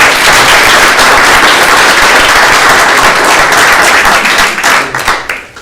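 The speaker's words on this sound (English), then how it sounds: "Give her a round of applause." An audience at a special city council meeting breaks into loud, dense applause, many hands clapping steadily for about five seconds before thinning out and fading at the end, close and full with no talk.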